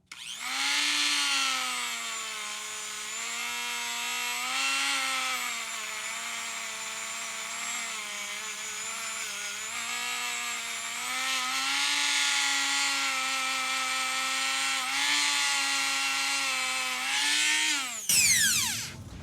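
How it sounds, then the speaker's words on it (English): A wire wheel spins against aluminum on a Brunswick Gold Crown 1 pool table restoration, a loud, steady high-pitched whirring grind with a slight rise and fall in pitch that runs almost unbroken for most of the stretch, then cuts off abruptly near the end. "get a wire wheel again and hit this aluminum with some of the wire wheel"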